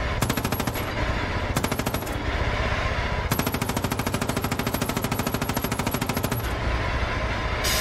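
Sustained automatic weapon fire in the video game Far Cry 5, loud and close, coming in rapid bursts: two short ones, then a long continuous stream of shots lasting about three seconds.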